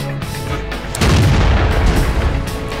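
A Russian SU-85 tank destroyer's main gun fires in a tank battle game, one heavy, booming shot that breaks in abruptly partway through, followed by a rumbling tail over low engine noise.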